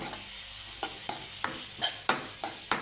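Onions fry in a pan, softly sizzling under a regular series of scraping stirs from a spatula, about six strokes, close and fairly quiet.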